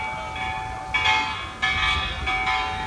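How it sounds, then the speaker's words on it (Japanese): A bell rings with several resonant strikes spaced about half a second apart, heard over steady outdoor background noise near the Atomic Bomb Museum in Hiroshima. "あと鐘が鳴ってますね"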